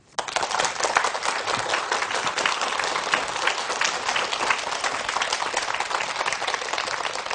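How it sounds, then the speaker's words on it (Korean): An audience in a lecture hall gives steady, even applause to welcome a lecturer onto the stage, with continuous clapping that holds at a moderate level for the whole stretch. "큰 박수로 모시겠습니다"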